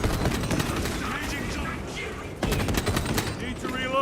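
Rapid gunfire rattles in the video game Warhammer 40k Space Marine 2, dense bursts of shots with a brief lull partway through, then renewed firing, loud and close with chaotic game effects and voices mixed in.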